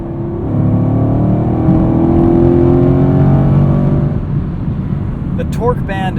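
2018 Chevrolet Camaro 2SS with manual gearbox, its V8 engine droning loudly and steadily under a bridge, a deep sustained rumble that eases off toward the end.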